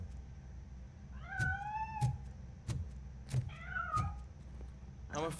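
A cat in the video game RoboCop: Rogue City meows twice, rising and wavering calls about two seconds apart, with heavy mechanical footsteps thudding regularly underneath and a sharp clank at the end.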